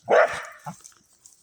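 Dogs let out a sharp, loud bark at passing bike riders, then a few shorter yips and whimpers trail off, fairly close and with no talking over them.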